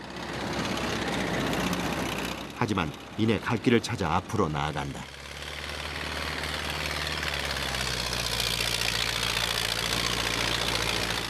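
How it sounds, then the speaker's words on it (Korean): A tractor works up a frozen, snow-covered mountain road in the Siberian wilderness, its engine holding a steady low drone while idling and straining. Someone narrates over it for a few seconds. "산길을 오르기 쉽게 만들어진 트랙터도 몇 번씩 공회전을 반복한다"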